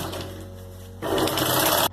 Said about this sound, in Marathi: आता ह्या भागाला आपल्याला फिनिशिंग म्हणून स्टिच द्यायची।